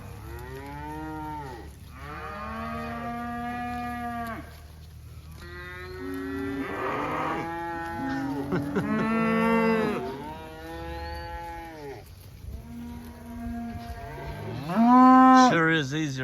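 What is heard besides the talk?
cattle mooing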